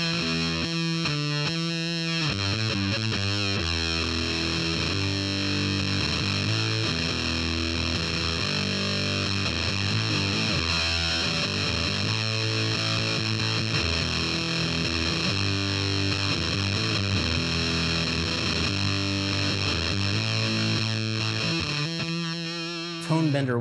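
Electric guitar through a Tone Bender fuzz pedal, a thick buzzing distorted tone playing a continuous riff with sustained chords and busy notes, loud and close, without talking.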